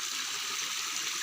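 Water pours steadily into a drinking-water tank on a village farm, a continuous hissing rush at close range with no voices.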